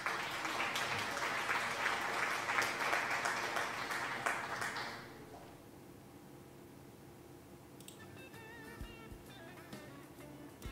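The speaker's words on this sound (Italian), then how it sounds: "Applausing, yeah." Applause inside the Toy Tinker Simulator game, a steady round of clapping that carries on for about five seconds and then stops abruptly, leaving quiet game sounds with a few faint tones afterward.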